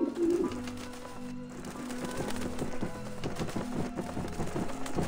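Birds coo and flutter in the video game Grim Fandango as they attack, with repeated cooing calls and soft clip-clop-like flapping over a steady background for several seconds.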